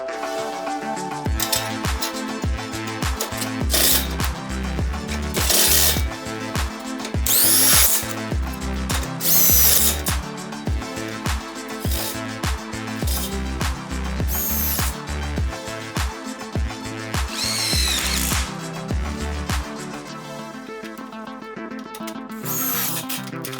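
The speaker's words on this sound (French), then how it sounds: "on veut utiliser les vis autoforeuses qui sont fournies avec, douille de 10, on visse et on visse dans le montant" A power drill with a 10 mm socket drives self-drilling screws into a metal stud during a bathroom partition renovation, giving repeated close whirring bursts with pauses and clicks between them, steady and without speech.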